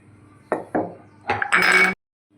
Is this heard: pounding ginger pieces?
yes